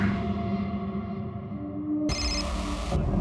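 A telephone rings with a steady electronic tone, loud and close, sounding twice with a brief gap and no voices.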